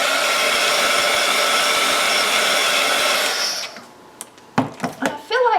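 Hair dryer blowing steadily at close range, drying watercolor paint on a Bible journaling page, then cutting off; a few soft handling knocks and brief sounds follow in the quieter end.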